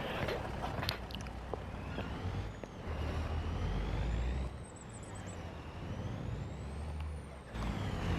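A truck in Farming Simulator 25 pulls up to a fuel pump, its diesel engine rumbling low and steady with a sharp air-brake hiss and a rising whine, heard up close with no talk.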